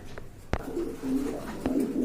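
A pair of big pouter pigeons cooing close by, low soft rolling coos in a couple of short phrases, with a sharp click or tap and faint background voices.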